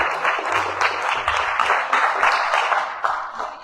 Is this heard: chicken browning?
no